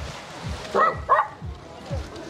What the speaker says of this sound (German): da liegt aber ein Wachhund